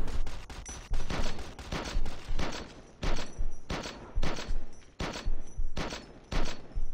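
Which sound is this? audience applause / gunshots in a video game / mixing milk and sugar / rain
gunshots in a video game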